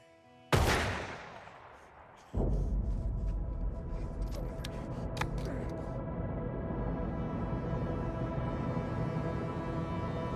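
A loud gunshot bursts out, followed a moment later by a second heavy blast and then a sustained roar of rapid gunfire and echoing rumble during a tense robbery shootout.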